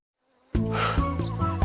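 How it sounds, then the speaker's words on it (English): A mosquito buzzes close to the ear in a children's story setting, a sudden loud, steady insect whine that starts after half a second of silence and wavers in pitch as it hovers. "I think a pesky mosquito is buzzing in my ear"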